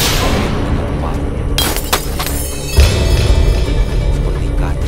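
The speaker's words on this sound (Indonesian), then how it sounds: "memecahkan cermin dengan palu." A hammer smashes a mirror. Sharp bursts of breaking, shattering glass come in two distinct hits over a rumbling background.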